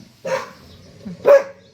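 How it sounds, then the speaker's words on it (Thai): A dog barks twice in short, sharp bursts close by, with a quiet pause between the two barks and no talk around them. "มาก็หมาก็เห่า"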